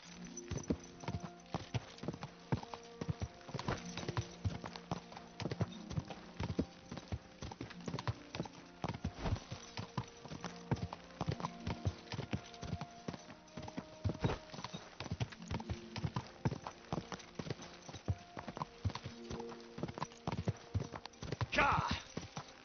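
Horse hooves clop rapidly and continuously in a steady galloping rhythm in the video game Kingdom Come: Deliverance II, with a brief whinny near the end and faint talk underneath.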